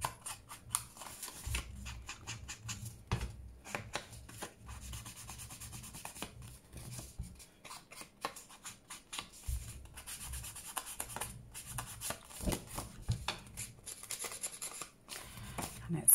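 Ink being rubbed around the edges of a paper envelope, soft, close scuffing strokes repeating in an irregular rhythm, faint throughout with no talking.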